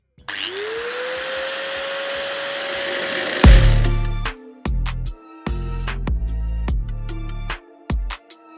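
An angle grinder cuts welds off a transformer core for a homemade arc welder: a high, rising whine runs for several seconds, then gives way to a series of loud, short grinding bursts separated by pauses.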